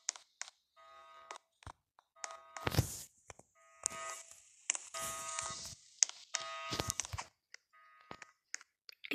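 Short electronic beeps and chirps repeat irregularly over clicks and thumps, fairly quiet and busy like game interface sounds.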